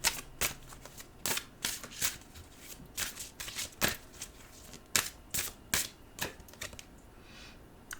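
Enchanted Earth Oracle cards being shuffled by hand, a run of crisp riffling bursts in quick irregular succession, close and fairly quiet with no talking.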